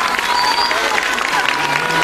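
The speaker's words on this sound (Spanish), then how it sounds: "le aplaudimos a nuestro gobernador, Manuel Velasco Cuello." A crowd at a public event in Pichucalco applauds the state governor, loud sustained clapping with a few voices and cheers mixed in throughout.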